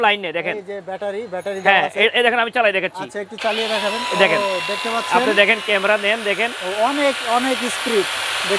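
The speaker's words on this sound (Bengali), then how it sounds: "এই যে ব্যাটারি চালিত গ্রাইন্ডিং মেশিন" A battery-powered grinding machine whirs with a steady high hiss that starts partway through, running under someone speaking loudly and continuously nearby.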